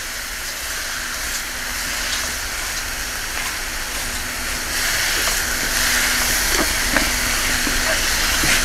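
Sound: gas stove burning under a pot boiling clams

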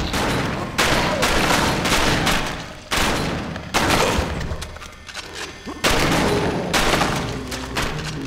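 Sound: gunfire in the video game House of the Dead: Overkill

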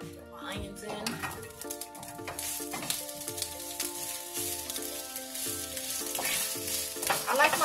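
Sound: onions sautéing in olive oil in a pan

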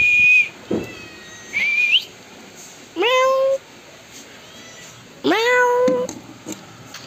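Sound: cat meowing

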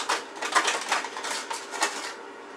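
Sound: mixing roast potatoes in an oven tray

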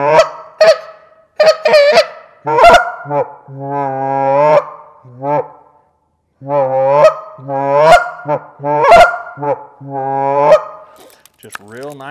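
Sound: Canada goose calls, honking

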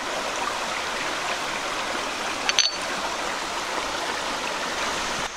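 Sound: creek water flowing

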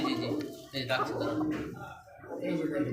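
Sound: Bashiraj pigeons cooing

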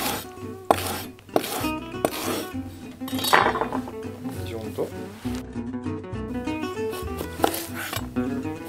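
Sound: dicing green onion with a knife

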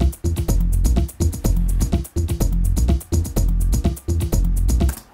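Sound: Ableton Live mix of two beat channels and bass

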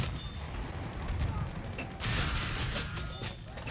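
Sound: rocket attack from enemy bomber in a video game

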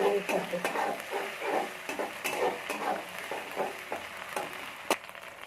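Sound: ginger garlic paste being stirred and fried in pan

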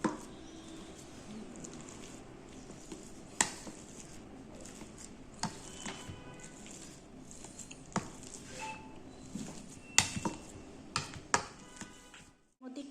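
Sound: mashing boiled potatoes while still hot

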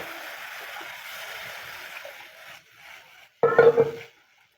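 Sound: water added to masala, stirred in a pan for fish curry

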